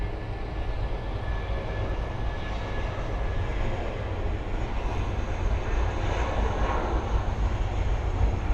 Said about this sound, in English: Airbus A330-900, also taxiing to runway